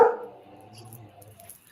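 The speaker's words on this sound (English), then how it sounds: "who's that barking?" A single loud dog bark lands up close, then trails into a brief whimpering tail.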